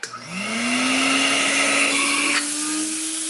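A Hoover Constellation model 84 vacuum cleaner switches on with a click, its motor whine rising quickly in pitch to a loud, steady roar that shifts slightly in tone near the end.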